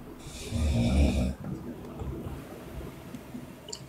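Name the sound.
person snoring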